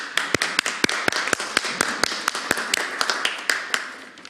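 Clapping during an online video meeting of a Chilean Constitutional Convention commission: a steady run of about twenty sharp, close claps at an even pace, with no talking over them.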